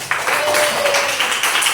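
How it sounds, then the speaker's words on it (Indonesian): Students in a classroom clap together in brief, steady applause, with some voices mixed in beneath the clapping. "tepuk tangan untuk kita semua"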